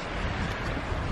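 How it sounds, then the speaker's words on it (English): Strong gusts whip down off a Colorado mountaintop, a dense, continuous roar of wind buffeting the microphone at a steady level for a short stretch. "There's some strong gusts whipping down off the top of that mountain."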